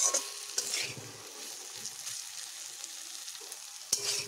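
Okra and spices fry in a pan with a continuous low sizzle, punctuated by scraping spatula strokes near the start and again near the end, with no talking.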